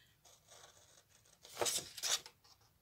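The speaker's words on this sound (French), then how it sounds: "On n'a plus qu'à couper l'excédent, c'est-à-dire on va couper ce petit bout là" Scissors snip off the leftover fabric at a tabletop craft project, two or three brisk close cuts after a faint rustle of cloth being handled.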